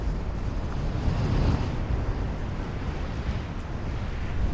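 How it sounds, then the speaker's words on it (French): Strong gusty wind blowing by a lake, a deep continuous rumbling buffet that surges around the first second and a half and keeps roaring close and loud afterward, with no speech. "Quel enfer ce vent là qui s'est levé, c'est de pire en pire."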